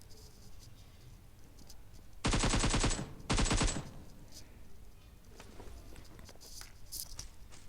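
Two loud, rapid bursts of shotgun fire in the mobile shooter PUBG Mobile ring out close by, a longer volley then a shorter one, set against quiet in-game ambience with faint clicks and no speech.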